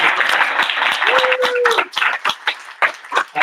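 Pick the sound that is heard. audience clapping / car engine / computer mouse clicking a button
audience clapping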